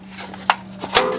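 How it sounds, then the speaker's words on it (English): A blade scrapes and cuts across a tin can for a bushcraft fishing kit, making a few short, close rasping strokes, one at the start and a louder one near the end over a steady low hum. "if you take a can just like this, and you cut across this way, and then slice up"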